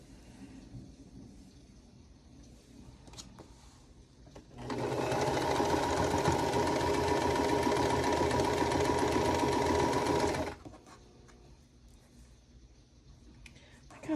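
Sewing machine stitching a vintage-style quilt block, a steady loud whirring run of about six seconds starting midway, with quieter room sound before and after.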